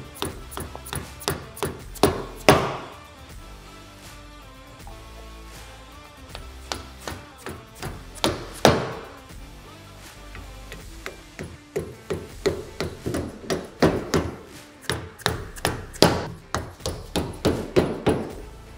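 Plastic plugs are tapped into the frame of a game loader rack on a Can-Am Defender utility vehicle, giving sharp, close hammer-like knocks that come in quick bursts, pause, and then return in a rapid rhythmic series.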